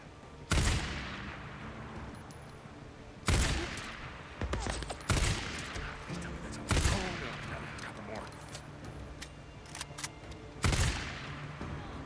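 Gunfire in the zombie survival video game Days Gone: several loud, sharp shots spaced a few seconds apart, each with a booming echo, over a steady din of game background noise.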